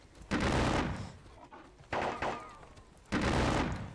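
Musket volleys from infantry units in a Napoleonic battle video game at Dennewitz, three separate crackling bursts each fading out, fairly faint and with no talk.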